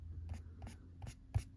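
A pencil colours on paper while a cupcake is filled in, giving four soft, evenly spaced scratchy strokes, close and quiet, with the last one slightly firmer.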